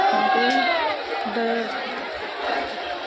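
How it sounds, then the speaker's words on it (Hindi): A dense crowd of pilgrims at Deshnok railway station heading to the Mata temple, with loud overlapping chatter and raised voices close by and a busy, continuous murmur throughout. "दोस्तों देखिए यहाँ पर कितना भीड़ है।"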